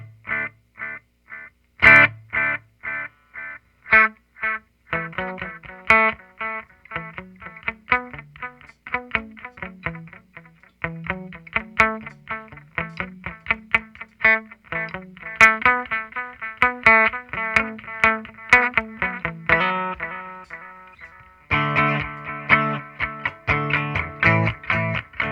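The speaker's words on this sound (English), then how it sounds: "I'm going to go the other direction and put it at 3 o'clock and see how much it slows it down" Electric guitar played through a Donner Yellow Fall budget delay pedal with its time knob at 3 o'clock, rapid picked notes trailing into repeating echoes that pile up densely, loud and continuous without speech.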